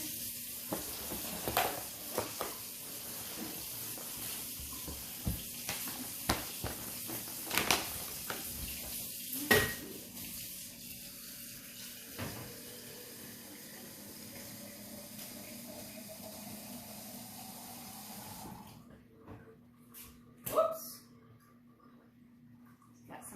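Hot water runs from a tap in a steady hiss under scattered clicks and clatter for most of the stretch, then cuts off near the end, leaving quieter handling noises.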